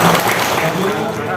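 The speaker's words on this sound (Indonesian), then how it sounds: "Terima kasih, kita berikan tepuk tangan." Steady, dense applause from guests at an interfaith dialogue gathering of religious leaders in a parish hall, sustained clapping filling the room throughout the short stretch.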